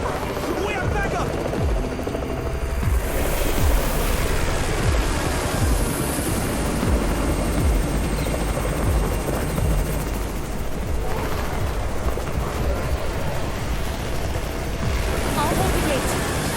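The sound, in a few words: helicopter arriving in video game Garena Undawn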